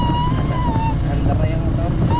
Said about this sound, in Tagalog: Andar na yung motor, oh.